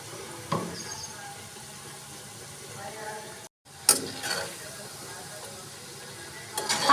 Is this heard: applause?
no